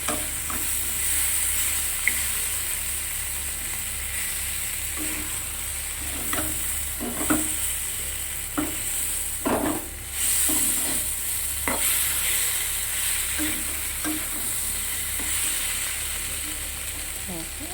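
Shrimp and potato curry cooks in a pan over medium gas, giving a steady soft sizzle and hiss with occasional stirring scrapes and no talk.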